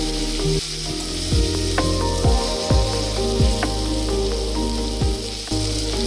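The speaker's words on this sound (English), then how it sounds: "we are adding some tomatoes along with the spice, the chili, and stir it well" Tomatoes, chili and spices fry in a hot pan, a loud close sizzle broken by repeated knocks and scrapes of stirring at an uneven rhythm, with no voices.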